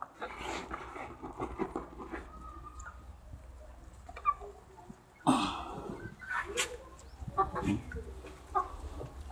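Free-range kampung chickens cluck and chatter close by while eating fermented feed, in an irregular flurry, with pecking and scuffling noises and occasional louder squawks.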